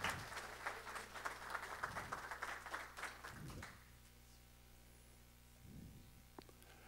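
Audience welcoming speaker Greg Thielmann at a talk on the Iraq invasion: steady clapping from a crowd for about three and a half seconds, fading out to a quiet room hum with a few soft rustles.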